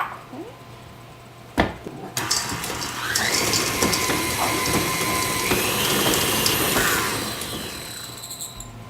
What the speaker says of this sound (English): So just mix that until you see that the almond butter has completely blended